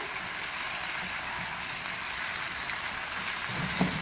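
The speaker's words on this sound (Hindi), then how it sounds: "अब इसको तेज आंच पे अच्छी तरह से भूनना है।" Spiced pickled potatoes roast over a high flame, giving a steady, dense sizzle that holds evenly throughout, with one soft knock near the end.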